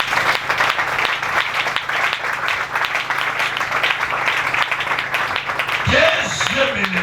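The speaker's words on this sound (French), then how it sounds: "Si tu crois réellement, tu applaudis." Church congregation at a worship service applauds steadily and loudly, with a voice rising over the clapping near the end.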